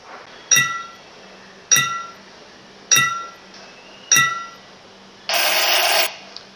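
An object drops into a glass five times in a row, each drop a bright ringing clink spaced about a second apart, followed by a short burst of static-like noise.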